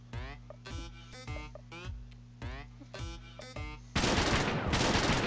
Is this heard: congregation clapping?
no